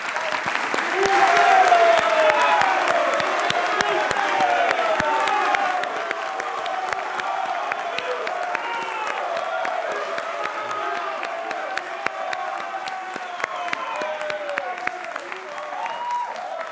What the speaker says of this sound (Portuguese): esse silêncio só depois de recebermos com uma salva de palmas os dois debatedores, Eduardo Paes, do DEM, e Wilson Witzel, do PSC